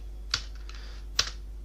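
Two separate key presses on a computer keyboard while data is entered into an Excel billing sheet, sharp, isolated clicks over a steady low hum, no talk.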